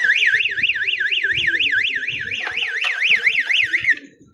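A loud electronic fire alarm wails in a rapid warbling up-and-down tone, repeating steadily, with faint clatter and movement beneath it.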